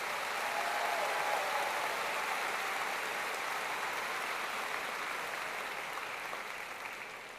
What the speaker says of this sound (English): Please join me in a round of applause for all of our students.